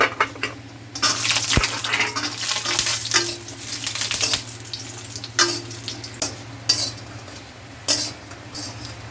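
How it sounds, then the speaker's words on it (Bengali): Lentil badi fry in mustard oil in a wok, giving a steady close sizzle with bursts of crackling and a few light metallic clinks from stirring. "কড়াতে সর্ষের তেল দিচ্ছি বিউলির ডালের বড়ি"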